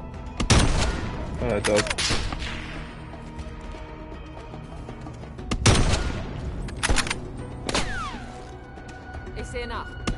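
Bursts of gunfire from the video game Call of Duty: Black Ops Cold War crack out in sharp volleys, with loud shots near the start and middle, over excited talking by players.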